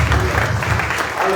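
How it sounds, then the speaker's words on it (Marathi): A church congregation claps together in a brief burst of dense, rapid applause filling the room, loud and close, lasting just over a second. "म्हणून आपण जोरात टाळ्या वाजवू."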